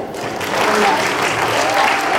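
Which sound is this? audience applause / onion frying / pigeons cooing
audience applause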